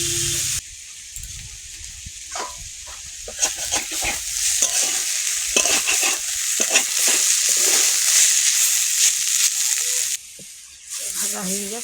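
Garden vegetables hiss and sizzle loudly in hot oil while a spatula scrapes and stirs them repeatedly in the pan, the frying continuous, close and alone.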